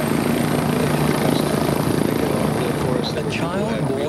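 A helicopter flies close by with a loud, continuous rotor and engine roar that holds steady throughout, and a voice speaks over it.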